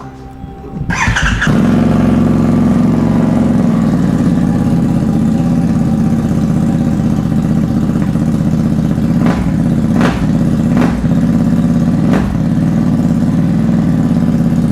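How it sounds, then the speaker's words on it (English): A Harley-Davidson Nightster motorcycle fitted with a Reinhardt slip-on exhaust starts and then idles loud and close, a deep steady rumble with a few brief throttle blips near the end. "that exhaust is, maybe if it's not already out, it's going to be out very shortly"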